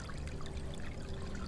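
Steady broadband rush of tidal water draining out over a shoreline, a constant close trickling flow with no voices.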